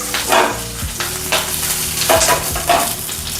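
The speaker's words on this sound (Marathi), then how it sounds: "थोडासा कढीपत्ता टाकूया आणि लसूण हे फाटफट" Curry leaves and garlic sizzle in hot oil, a steady close crackle with several clattering stirs and scrapes of a utensil over it, no voices.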